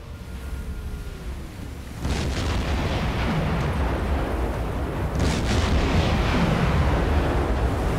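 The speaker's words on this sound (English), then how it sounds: "Wow, they've just both kamikaze'd into the water." Two aircraft crashing into the sea in the Silent Hunter 4 naval game. A sudden loud booming impact lands about two seconds in, followed by a sustained roaring wash and a second burst around five seconds, with no voices.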